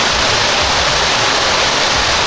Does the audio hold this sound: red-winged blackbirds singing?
no